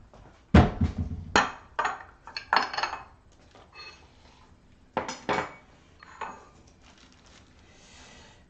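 Dishes and bowls clink and clatter in a kitchen as shrimp are being prepared, with several sharp knocks of ceramic and cutlery, some quiet shuffling between them, and the setting mostly close and otherwise quiet.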